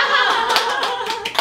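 A few hands clap close by in a quick, brisk burst of sharp claps lasting about a second and a half.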